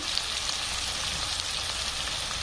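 Turmeric, salt and red chili powder frying in oil in a pan before fenugreek greens go in, a dense steady sizzle with faint stirring scrapes, close and without speech.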